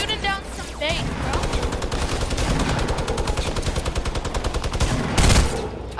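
Fortnite gunfire rattles in rapid automatic bursts, close and loud and nearly continuous, with a brief shout near the start and a heavier blast near the end.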